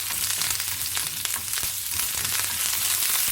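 Sesame oil tempering urad dal, mustard seeds, four dried chillies and curry leaves in a kadai gives a steady, dense sizzle with small crackling pops, close and continuous with no voices.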